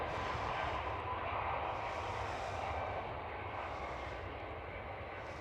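A KLM Cityhopper Embraer E195-E2 airliner at Amsterdam Schiphol makes a faint, distant jet roar that holds steady and slowly fades.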